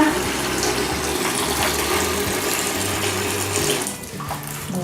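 Hot water runs steadily from a bathroom tap into a bowl, a continuous splashing gush at moderate level that briefly dips near the end before resuming.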